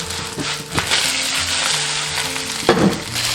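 Tofu frying in cooking oil in a hot pan until golden on both sides, a steady close sizzle with a few sharper scrapes and clacks of chopsticks turning pieces.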